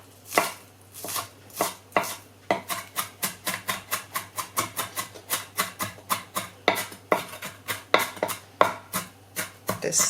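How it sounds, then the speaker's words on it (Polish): Knife finely chopping spring onion on a cutting board, with quick rhythmic taps in uneven bursts, close and clear, with no talk. "Także sobie to drobniutko siekam."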